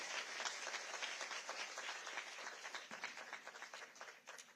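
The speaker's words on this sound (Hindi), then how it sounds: "एक बार इन सभी के लिए जोरदार तालियों से इनका स्वागत और अभिनंदन करिए।" Audience applause at a ceremony for disabled people in Rajasthan, a steady wash of many hands clapping together that continues throughout and thins slightly toward the end.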